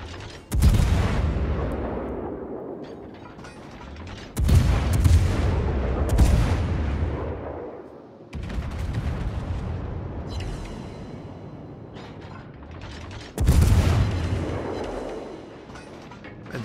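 Battleship main guns fire in the naval combat game World of Warships: four heavy booming salvos at irregular intervals, each a loud crack that rolls into a long rumbling decay, with no talking.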